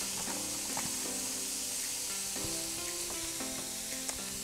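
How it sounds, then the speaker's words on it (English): Zucchini noodles sizzle steadily in a hot pan, a dense continuous frying hiss with small crackles and pops running the whole time. "Throw your zucchini noodles in."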